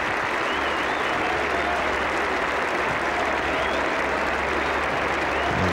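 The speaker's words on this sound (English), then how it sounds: "plenty for this big Edgbaston crowd to cheer about" A big crowd at Edgbaston cheers and applauds steadily at a 1985 Ashes Test cricket match, forming a dense, continuous wash of clapping throughout.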